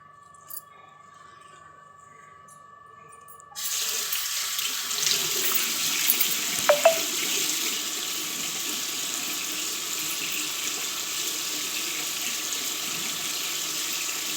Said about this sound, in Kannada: ನೀಟಾಗಿ ಒಂದ್ಸಲ ಫೇಸ್ ವಾಶ್ ಮಾಡ್ಕೊಳ್ತೀನಿ